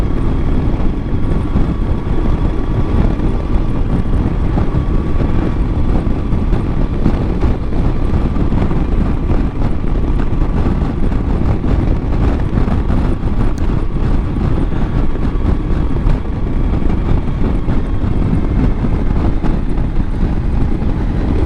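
A Honda Transalp 600V motorcycle engine runs steadily throughout, a continuous loud rumble heard up close with wind buffeting the microphone and no speech.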